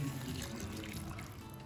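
A glass of water poured into a cooking pan holding tomatoes, spices and cashews for shahi paneer, a short continuous splashing trickle heard close and alone.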